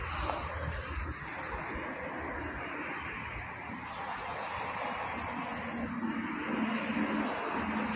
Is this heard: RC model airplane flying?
yes